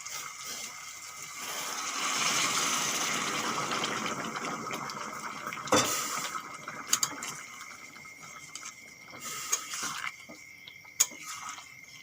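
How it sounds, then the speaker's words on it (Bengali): Hot water poured into a pot of jackfruit curry, a rushing gush of liquid that fades into faint bubbling and scattered clinks of cooking, moderately quiet and close. "কষানো হয়ে গেছে এখন গরম জল দিয়ে দেবো"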